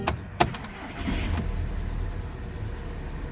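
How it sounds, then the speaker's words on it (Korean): A 2009 Volkswagen Passat 2.0 diesel engine idles with a low, steady hum after a couple of sharp clicks and a thump, quiet and even throughout. "보시면서 엔진 소리도 한번 같이 들어보세요"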